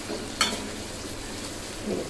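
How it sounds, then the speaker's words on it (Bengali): Chicken meat fries in a pan with garlic, a steady close sizzle with a brief clink of a stirring utensil near the start, no talk. "ভাজা ভাজা হচ্ছে মাংসগুলো, আর মানে ভালো মতন সিদ্ধ হচ্ছে।"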